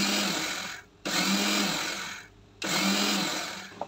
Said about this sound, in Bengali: এখন আমি কি করব, ব্লেন্ড করে নেব মাত্র 2-3 সেকেন্ড।